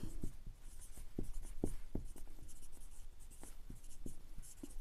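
Pen or marker writing on a board or paper during a seventh-grade maths lesson, a steady run of scratchy, rhythmic strokes with short taps, fairly close and alone.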